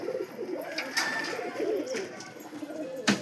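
Pigeons in a loft, a steady soft burble of overlapping coos close by, with light rustling and a sharp tap near the end.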